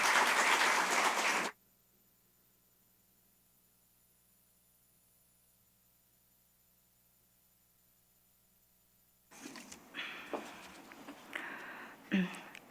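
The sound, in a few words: congregation applauding to welcome a speaker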